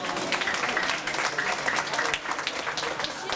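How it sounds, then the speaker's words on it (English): A crowd at an evening event at Melrose gives Mr. Baker a lively round of applause, continuous dense clapping at a steady loud level with a faint murmur of voices mixed in. "Let's give Mr. Baker a round of applause."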